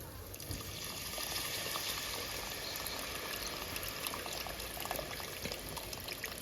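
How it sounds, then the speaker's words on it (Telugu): Tamarind extract pouring into a simmering fish curry, a steady close liquid splash and trickle running continuously with a bubbling wash beneath, no voices. "ఇప్పుడు చింత పులుసు వేసుకుంటుండీ"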